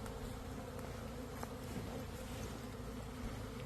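A swarm of bees buzzes steadily during relocation into a hive, a dense continuous drone filling the air close by with no break and no voices.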